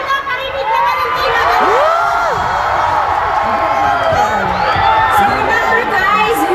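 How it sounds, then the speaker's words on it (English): Fans at a K-pop fan meeting in Manila keep up loud, continuous cheering and screaming, with high shrieks and whoops rising over steady crowd chatter throughout. "make sure that you are cheering and screaming really loud for our players here"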